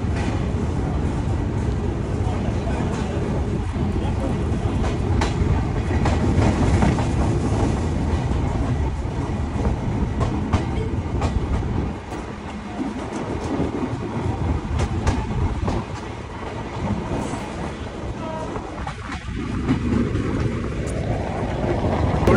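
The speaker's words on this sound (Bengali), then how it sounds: "আর সঠিক সময় আমাদের ট্রেন ছেড়ে দিল বেনাপোল স্টেশন থেকে" Ruposhi Bangla Express pulling out of Benapole station, heard from inside an air-conditioned coach: a continuous low rumble with rail clatter and rhythmic clicks, steady and fairly loud throughout, quieter for a stretch midway.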